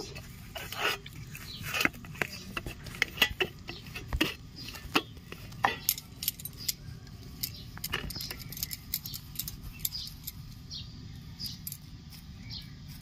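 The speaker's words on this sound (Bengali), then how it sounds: "এবার আমি লেচি কেটে নেব" Dough for aloo paratha being cut into portions: repeated sharp taps and scrapes of a knife on a board, irregular and close, over a quiet room background, with no talking.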